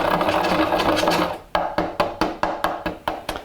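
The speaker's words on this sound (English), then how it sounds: "Here I've got the seeds from 15 cardamom pods. I'm just going to crush them." Cardamom seeds are crushed for a Danish julekage bread, a rapid, rough grinding followed by a regular run of close, sharp pounding knocks, about five per second.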